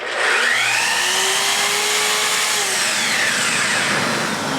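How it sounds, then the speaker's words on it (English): A miter saw making a butt cut through wood, a loud, close, continuous high whine and rasping blade noise that holds steady for several seconds before easing slightly at the end. "I'll make the butt cut first."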